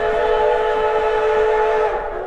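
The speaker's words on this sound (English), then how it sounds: "And the whistles are like musical instruments." A loud, sustained whistle from a coal-burning steam locomotive on the Durango line, sounding a rich multi-tone chord, held steadily for about two seconds before tapering off.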